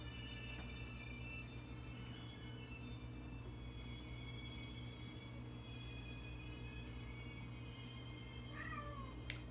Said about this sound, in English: My cat likes to cook with me.